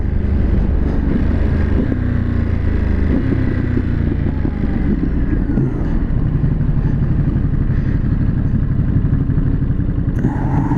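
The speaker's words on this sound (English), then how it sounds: "If you've been listening, you can hear the quick shifter." A 2022 Ducati Monster 950 engine running hard and close, with quick, clipped quick-shifter gear changes as the revs rise and drop, no talking.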